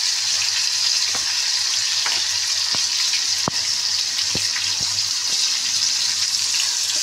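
Grated garlic sizzles steadily in hot oil in a pan as the base for a prawn curry, a continuous loud frying hiss with a few faint clicks of stirring and no voices.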